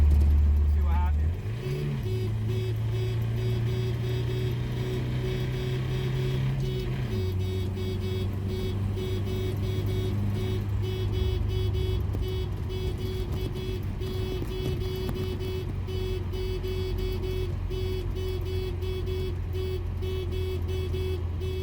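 A car engine idles and then revs once the gear is dropped, while a modified horn plays a melody, its pitch tracking engine RPM. Steady engine drone with a sustained horn tone and a brief rev near the start.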